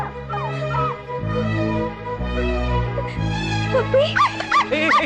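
A dog whimpers and gives a few short, high yips toward the end, close by, over a steady low droning background.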